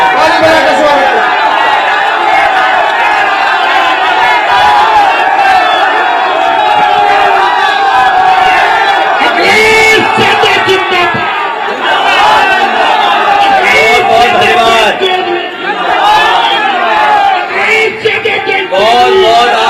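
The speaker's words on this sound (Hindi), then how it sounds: "ताली बजाकर स्वागत करें।" Large crowd at a Samajwadi Party political rally cheers, shouts and claps in welcome for Akhilesh Yadav, a loud, dense roar of voices sustained throughout with bursts of whooping.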